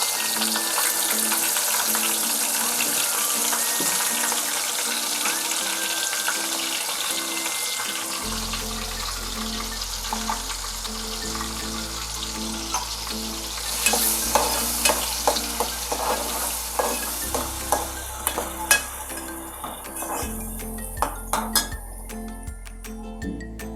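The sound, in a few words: ground masala paste frying and being stirred in a pan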